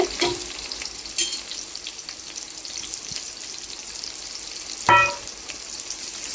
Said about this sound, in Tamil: இது கூட நம்ம கட் பண்ணி வச்சிருக்க பெரிய வெங்காயத்தை ஆட் பண்ணிக்கலாங்க.